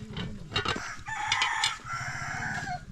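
A rooster crowing outdoors on a rural Philippine farm, a close, fairly loud call with a rising and drawn-out cry accompanied by scattered clucks and a faint background hum.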